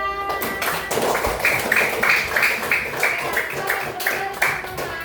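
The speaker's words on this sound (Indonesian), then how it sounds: "Beri tepuk tangan dulu untuk teman-temannya." Classroom applause from fifth-grade elementary pupils, a lively run of quick, close hand claps in uneven bursts, with faint young voices underneath.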